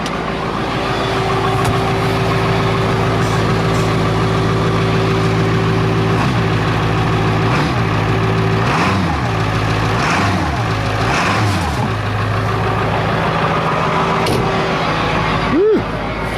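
A truck engine runs loudly and steadily on a cold start in cold weather, with a constant turbo whine and hum and several swelling revs rising and falling.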